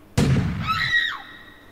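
A woman's short scream in a home during a household quarrel, rising sharply after a thump and trailing off, fairly loud and close with no talk over it.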